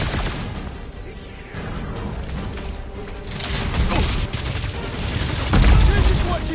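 Gunfire and combat in Guardians of the Galaxy on PS5, a steady stream of mechanical clatter and shots building in intensity toward a heavier burst near the end, with voices mixed into the fight.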